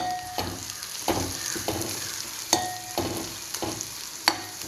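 A spoon scrapes and stirs turmeric and chili powder in a hot frying pan, repeated sharp scraping strokes in an uneven rhythm over a soft steady sizzle, close and fairly quiet.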